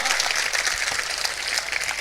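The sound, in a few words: audience applause at poetry recital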